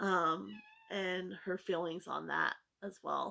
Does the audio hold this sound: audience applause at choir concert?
no